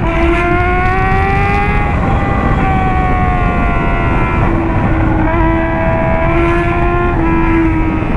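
A Honda Hornet motorcycle engine roars loud and close, holding a steady high-revving tone that rises and dips with throttle changes for the whole stretch.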